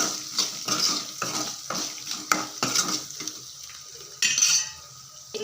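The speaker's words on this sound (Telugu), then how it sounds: "వేసుకొని ఒకసారి బాగా కలిపేసుకుందాం" Rice being stirred with salt in a metal pan, a utensil scraping and clinking in repeated strokes with light sizzling between them, close and moderately loud with no talking.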